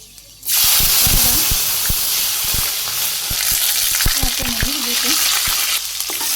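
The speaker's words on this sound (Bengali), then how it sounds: "জিরে সামান্য একটু মেথি দিয়ে দিলাম" Cumin and fenugreek with vegetables hitting hot oil for a Bangladeshi vegetable khichuri, a sudden loud sizzle bursting up close and holding as a dense, steady fry, broken by scattered clicks of stirring.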